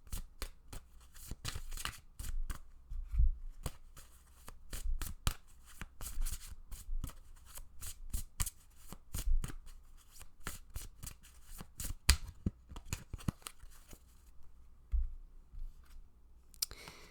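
Tarot cards being shuffled by hand, a rapid run of crisp, close riffling clicks and flutters with brief pauses, alone without talk.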